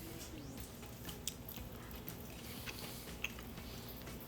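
Someone chews a mouthful of tender corned beef and cabbage with potato, soft close-up wet chewing and squishing with a couple of sharper bites, fairly quiet.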